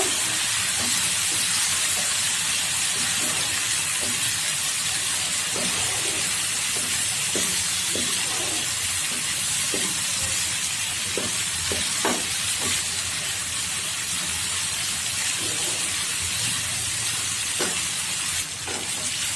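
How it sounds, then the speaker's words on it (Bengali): Spice masala with dried chili powder frying for beef liver bhuna, a loud continuous sizzle and hiss with scattered scraping and stirring clinks from a utensil against the pan, close and steady. "আমি এখন মশলাটা ভালোভাবে কষিয়ে নিব।"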